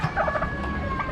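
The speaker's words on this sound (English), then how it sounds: "Big old royal palm turkey." A big royal palm turkey gobbles in short warbling bursts at an Amish animal auction, fairly close, with crowd murmur and barn noise underneath.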